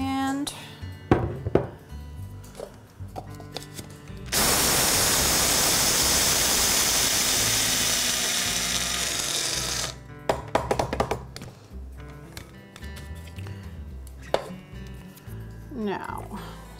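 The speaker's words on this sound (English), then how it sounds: "what we're gonna do is grind 2/3 cup of flax" Flax seeds ground in a kitchen grinder for a flax pizza crust: a loud, steady whirring grind lasting several seconds, with clatter and talk before and after.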